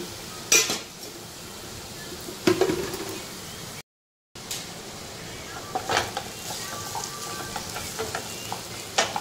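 Onions sautéing in a pan for boiled-egg bhurji, a steady low sizzle broken by a few sharp scraping stirs of a spatula and clinks of cookware, with a brief silent gap midway.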